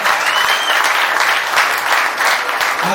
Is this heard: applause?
yes